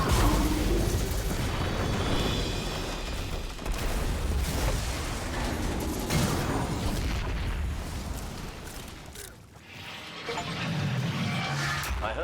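Explosions in a Destiny-style shooter game, loud booms and rumbling blasts over continuous game noise, with one clear heavy burst near the end.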